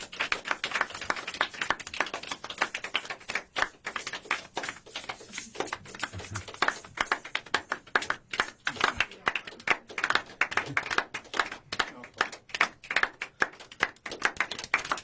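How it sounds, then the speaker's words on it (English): A small group claps for two guests at the close of a studio show, a steady patter of hand claps running throughout while people talk over it. "Give a big round of applause for Soveign and Shelbyshelbyshowme."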